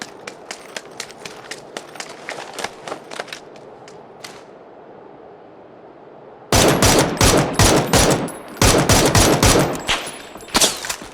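Video game gunfire: sporadic distant shots and footstep-like taps at first, then after a short lull loud, close rapid automatic bursts rattling in quick clusters.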